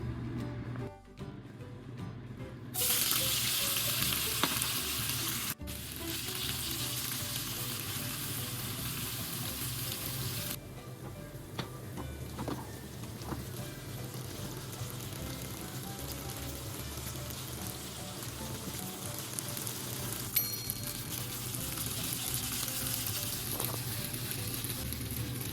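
Tofu fries in a shallow layer of oil in a pan, giving a steady, close hiss and crackle that runs on alone, with a brief louder flare early on.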